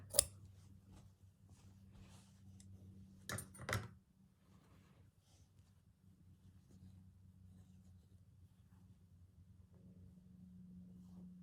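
Scissors trim wool threads on a wool embroidery piece: a few quiet snips, one near the start and a closer cluster a few seconds in, over a steady low room hum with no talking.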